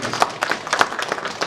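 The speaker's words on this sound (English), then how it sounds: "I think he deserves a big clap" Audience at an international technology and innovation conference clapping for a speaker, a short burst of scattered, moderately loud hand claps with no voices.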